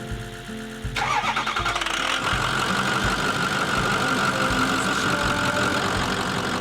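An RV truck engine cranks in a rapid, rhythmic churn after a quiet start, loud and close, with a struggling whine as it tries to catch.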